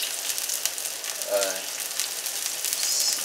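Onions separated into rings frying in hot oil to caramelize for Cintan instant noodle chicken soup, a steady close sizzle with soft crackles throughout, no talk.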